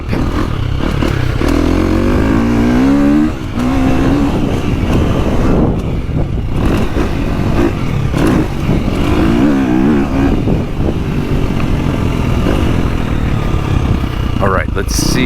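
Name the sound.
KTM 350 dirt bike with Akrapovic exhaust revving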